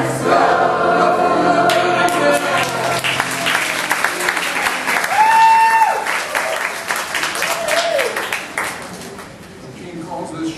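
Audience at a stage show applauding and cheering, dense clapping mixed with shouts and sung or called voices, loud and close throughout, thinning near the end.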